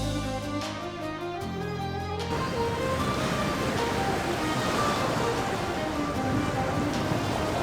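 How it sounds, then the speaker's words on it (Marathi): Sea waves at Guhagar on the Konkan coast surge and crash against the shore in a continuous loud roar, rising from a tonal rumble into a dense, steady wash that fills the whole stretch. "पुऱ्या समुद्राच्या लाटा सडसडून राहिल्या आहे"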